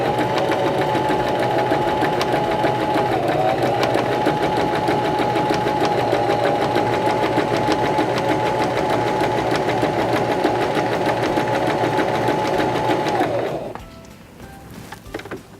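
A Singer Start sewing machine stitching fabric runs at a steady, continuous whir for about thirteen seconds, close and loud, then stops abruptly, leaving quiet room tone.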